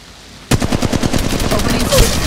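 Rapid automatic gunfire in the mobile shooter Apex Legends Mobile, a loud dense burst of shots starting abruptly after a brief quiet moment and continuing steadily to the end.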